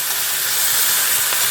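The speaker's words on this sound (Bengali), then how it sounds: "না, এটা জাস্ট ভাজাই হবে, এই ঢাকা দিয়ে দিয়ে ভেজে নেব।" Food frying in a covered pan on a stove, a loud, steady sizzling hiss that stays even throughout, close up with no talking.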